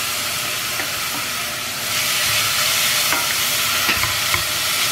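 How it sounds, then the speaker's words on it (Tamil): Grated beetroot tossed into melted ghee in a pan, frying with a steady close sizzle and hiss, punctuated by scraping stirs and a louder burst as more goes in partway through. "நெய் ஆல்ரெடி உருகிட்டுருக்கு. இதில் வந்து நம்ம திருவி வச்சுருக்கிற பீட்ரூட்டு"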